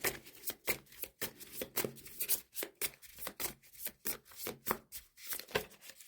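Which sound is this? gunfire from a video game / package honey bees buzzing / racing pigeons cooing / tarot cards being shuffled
tarot cards being shuffled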